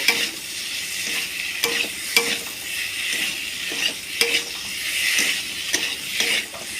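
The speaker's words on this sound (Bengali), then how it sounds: "আলুটা একটু ভালো করেই কষিয়ে নেব" Potatoes sizzle steadily in an oily pan while a spoon stirs them, its scrapes and knocks landing every second or so over the constant frying hiss.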